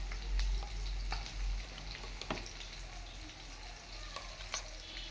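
Mustard seeds frying in a pan for a fish masala, giving a steady, soft crackling sizzle with scattered sharp pops, quiet and close.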